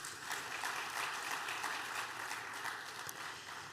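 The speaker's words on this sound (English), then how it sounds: "A round of applause, please" An audience applauds Senator Tokunbo Abiru, a Nigerian Senate industry committee member, at a corporate launch event for d.light in Nigeria. The clapping is a dense, steady wash, fairly soft and distant-sounding, filling the whole stretch with no talk over it.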